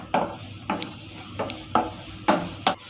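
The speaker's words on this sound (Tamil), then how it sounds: "கிண்டி எடுத்துக்கலாம்." A utensil stirring rasam ingredients scrapes and knocks against a cooking pan in six short strokes at an uneven rhythm, close by, with quiet background in between.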